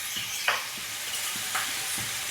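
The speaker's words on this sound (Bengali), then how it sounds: "এরপরে চিকেনটা ভাজা হচ্ছে, তার জন্য একটু সামান্য নুন দেওয়া হলো" Chicken pieces sizzle in a pan with a little salt while being fried for a homemade curry, a steady hiss broken by a few louder stirring scrapes.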